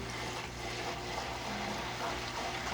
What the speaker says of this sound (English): I would say pump, motor pump, water pump